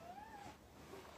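A pet cat gives a single faint rising-and-falling meow followed by a brief short chirp, quiet and alone in a low background hiss.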